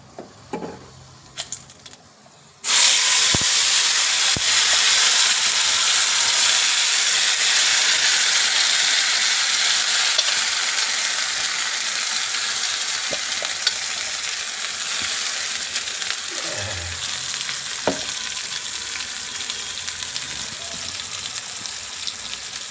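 Ground masala paste for crab sukka hits hot oil with a sudden loud sizzle after a few quiet seconds of handling noises, then keeps frying in a strong, steady hiss with occasional stirring scrapes.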